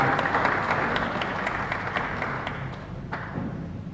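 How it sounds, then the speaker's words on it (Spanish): Applause from the women of a chapel community at a Mass in Asunción, steady dense clapping from a crowd filling the whole stretch and slowly fading. "les pido un aplauso para todas mis mujeres de la comunidad"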